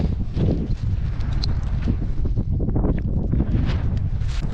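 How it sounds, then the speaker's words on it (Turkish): Strong mountain wind in the Bolkar Mountains buffets the microphone in a steady, roaring rush of low rumble that stays loud throughout. "Rüzgar çok şiddetli."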